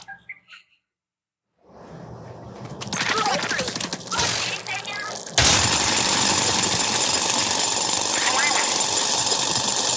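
A drill digging in the Splatoon Raiders video game, starting from silence, building into a loud rattling, grinding roar, and then jumping to an even louder, constant, noisy churn that fills the rest of the clip.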